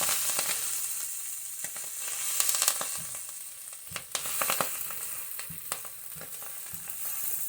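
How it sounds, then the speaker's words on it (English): Collard greens fry in a seasoned skillet with a steady close sizzle, and sharp pops and crackles scatter throughout. "That little popping at your greens, that kind of pop."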